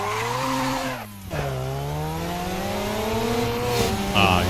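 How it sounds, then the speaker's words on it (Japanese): A Mazda RX-7 FC3S (Savanna) driven hard on the Akina mountain pass in Assetto Corsa. The engine drones close and loud, briefly drops away at a gear change, then climbs steadily in pitch as it accelerates. "こちらでちょっと峠の方も走ってみたいと思います"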